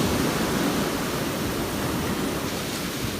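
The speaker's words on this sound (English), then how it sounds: "see if I can manage to not get knocked over by these waves." Ocean waves breaking on a Gulf shoreline after a hurricane, a steady broadband rush of surf with wind, loud and continuous throughout, no talk.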